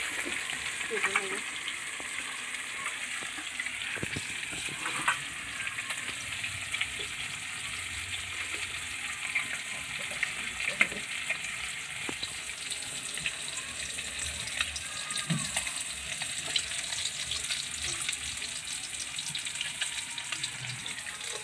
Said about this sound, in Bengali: সব মাছগুলো এইভাবে ভেজে নেবো এইগুলো মাছ ভাজা হতে থাকবে